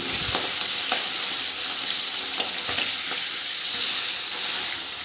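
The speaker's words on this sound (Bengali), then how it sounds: "এক পিঠ হয়ে গেলে আর এক পিঠ উল্টিয়ে ভেজে নিচ্ছি" Steady, close sizzling of fish heads frying in hot oil, a continuous bright crackle with occasional sharper pops and no talking.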